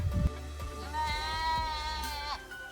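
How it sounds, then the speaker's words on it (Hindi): A mixed herd of goats and sheep met by the roadside in Chirmiri, with a loud, drawn-out bleat close by after a short thump and some rustling. "बकरियों का एक झुंड जो हमें अचानक चिरमिरी में मिला"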